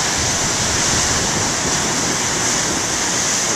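Big ocean waves break on a beach, a loud, steady roar of surf and churning water filling the whole stretch with no pause.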